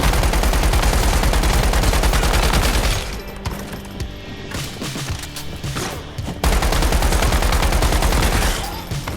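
Rapid automatic gunfire in the survival shooter Once Human, loud and close, in long sustained bursts with a short pause of scattered shots in the middle.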